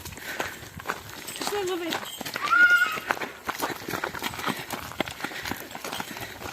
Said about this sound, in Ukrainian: Так, коровки йдуть.